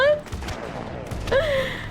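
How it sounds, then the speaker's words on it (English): Bursts of rapid gunfire in the video game Mass Effect 3 crackle under a gasp and vocal sounds, loud at the start and again near the end. "Did that gun just kill everyone?"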